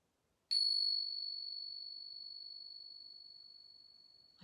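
A small bell is rung once for a children's yoga listening exercise, giving a bright, clear ding that rings on and fades slowly over several seconds in a quiet room.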